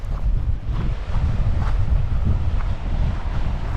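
Strong wind buffeting the microphone on the cliff at West Bay, Dorset, a loud continuous low roar and rumble that gusts slightly, with no voices.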